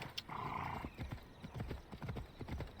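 Hooves of a horse clip-clop in a quick, close rhythm, with a brief whinny near the start, set over a dense ambient background.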